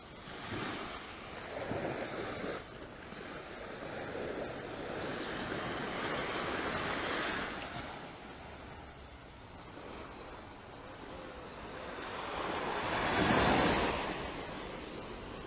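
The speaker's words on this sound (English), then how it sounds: "do you have the sound of the West Coast Sea in the background?" Sea waves wash ashore at Paynes Bay on the West Coast at daybreak, a steady broad surf roar that swells and recedes with a louder break near the end, under light wind and no talk.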